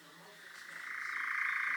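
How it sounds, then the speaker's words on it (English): A nightjar gives its vibrating churring call, a steady, rapidly pulsing trill that swells from faint to moderately loud and sustains alone without speech. "That is definitely a nightjar."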